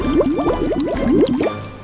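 Water splashed and poured across a floor during cleaning with a coarse brush, a rapid series of gurgling, sloshing pulses up close, tapering off at the end.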